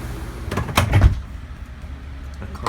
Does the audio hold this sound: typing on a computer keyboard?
no